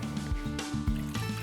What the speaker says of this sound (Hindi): ये डाल दिया पानी और इसमें आइस।